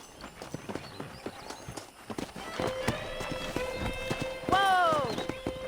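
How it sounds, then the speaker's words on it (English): Horses in the Western video game Red Dead Redemption, with repeated clip-clopping hooves and a loud, drawn-out neigh near the end, under some game ambience and talk. "Let's see if we can't wrangle some horses."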